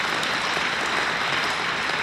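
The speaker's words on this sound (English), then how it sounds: "You can clap for that." A room full of people at a speaker meeting claps in a brief, dense burst of steady applause.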